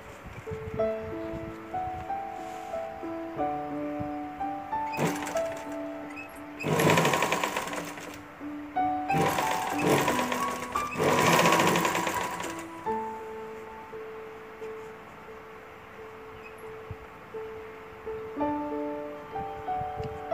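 A sewing machine stitches a blouse in a few short bursts, close by and fairly loud, over soft background music that plays throughout.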